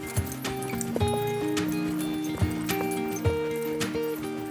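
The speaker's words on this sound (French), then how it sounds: "À Dominical, on va faire un tour au cheval." A horse's hooves clip-clop at a steady walking pace during a horseback ride in Dominical, with several sharp hoof strikes over tonal background sounds and faint talk.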